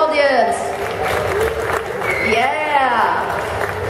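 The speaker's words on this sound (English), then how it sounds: "Round of applause for the audience." A fan crowd at a horror convention Q&A applauds and cheers, dense clapping and voices sustained for a few seconds, with a speaker's voice rising over the noise.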